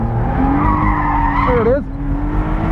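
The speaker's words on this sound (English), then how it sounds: "Let's see if we can induce some oversteer here." Car tyres skidding and squealing on a race track as a sports car oversteers, a loud, continuous screech with a rising, wavering pitch over steady engine noise.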